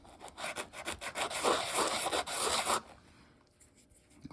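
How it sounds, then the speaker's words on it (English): An antler button rubbed back and forth on a sanding block: about a dozen quick rasping strokes in a steady rhythm, close and fairly loud, then it stops and leaves a quiet room. "we come over here to our sanding block"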